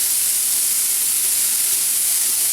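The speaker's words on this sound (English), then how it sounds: "We've been sauteing for this now about 5 minutes." Vegetables sauté in a pan, giving a steady, close hiss and sizzle with no break and no voices.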